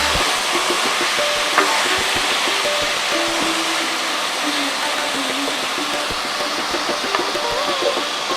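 Fish curry with taro roots (kochu mukhi) is stirred in a pan, with a dense, steady sizzle and bubbling and occasional soft scrapes of the spoon underneath.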